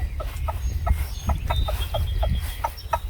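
Backyard chickens clucking in short repeated calls, a steady close flock chatter over constant low background noise.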